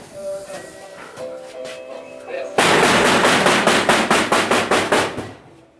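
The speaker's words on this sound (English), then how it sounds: "We have an actor back in this corner that can bang this sledgehammer." A haunted house actor pounds a sledgehammer inside a repair shop set: a dense run of loud, rapid, evenly spaced metallic bangs follows a quieter, droning opening.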